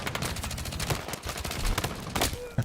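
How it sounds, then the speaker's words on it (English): Battlefield 6 gunfire rattles in continuous rapid bursts, loud and close, as dense automatic shooting with sharp transient cracks fills the whole stretch with no talk. "When in doubt, just shoot more bullets out"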